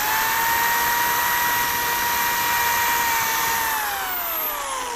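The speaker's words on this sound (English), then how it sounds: "Now that these pilot holes are drilled" A power drill boring pilot holes in a wooden desk caddy, a loud steady whine held throughout that drops in pitch toward the end as the bit slows, close and alone.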